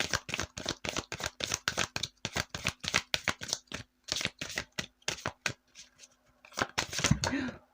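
A deck of tarot cards is riffled and shuffled in quick, rhythmic bursts of crisp flutters, close and loud, pausing briefly before a final flurry, with a voice talking near the end.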